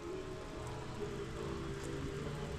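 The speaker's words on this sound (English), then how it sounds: "yep, still raining" Steady rain falling outdoors on a property, a faint, even hiss of drops on surfaces that holds constant throughout with no voices.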